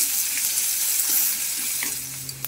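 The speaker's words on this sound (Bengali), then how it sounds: "একটু পেঁয়াজ কুচি দিয়ে দিচ্ছি।" Chopped onion sizzles steadily in hot oil with bay leaf, dried red chilli and cumin seeds, a close, continuous crackling fry with small pops and faint stirring clinks.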